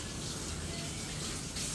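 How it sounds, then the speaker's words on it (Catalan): Tap water runs steadily from a kitchen faucet over cooked broad beans to cool them, a continuous close hiss and splash with no break. "només les refredo amb una mica d'aigua de l'aixeta"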